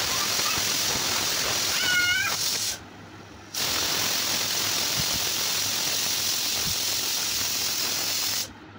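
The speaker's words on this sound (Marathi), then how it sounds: "तर या कुकरच्या शिट्ट्या तुम्ही ऐकाच आता" A pressure cooker whistles loudly while cooking cumin rice, a sustained hissing steam release that stops briefly and resumes, with a cat meowing faintly early on.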